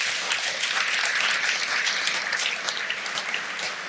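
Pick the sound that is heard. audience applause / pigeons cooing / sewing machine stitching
audience applause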